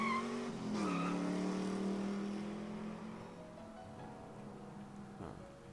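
A car drives off into the night in a visual novel game, with a revving engine and a brief tire squeal, then a fading drone as it pulls away.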